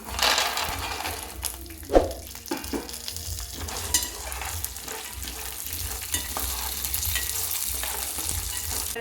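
Peanuts fry with cumin in a pan, giving a continuous close sizzle with scattered clicks, rattles and scraping bursts as they are stirred, and no voices.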